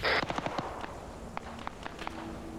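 Soldiers fire guns in a Vietnam War video game: a rapid string of sharp cracks opens the clip, then scattered, fainter single shots pop at a distance.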